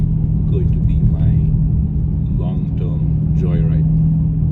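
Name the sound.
Dodge Challenger Scat Pack engine while driving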